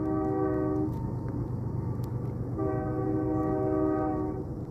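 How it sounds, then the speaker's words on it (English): American long-distance freight train passing through Texas countryside, its horn sounding two long chords over a steady rumble of rolling cars, moderately loud from a distance. "that sound of the American long-distance train"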